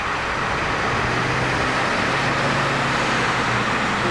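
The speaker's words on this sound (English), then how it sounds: "with all of the 10 of the buses heading out" Ten school buses pull out of a parking lot, heard as a continuous broadband engine and road rumble, steady and moderately loud with no speech.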